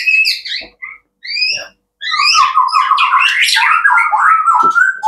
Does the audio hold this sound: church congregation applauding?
no